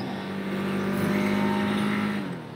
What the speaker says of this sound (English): I love this motorcycle